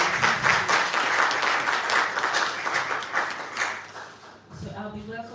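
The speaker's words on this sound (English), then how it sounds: "Can we please give her a wonderful round of applause?" Audience applause at a national schools debate championship final in Cameroon, a burst of dense clapping that tapers off, followed by a voice speaking near the end.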